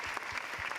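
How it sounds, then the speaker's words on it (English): Audience applause at a career and engineering conclave session, a dense steady patter of many hands clapping at moderate level through the whole short burst, with no voices over it. "A big round of applause, everybody."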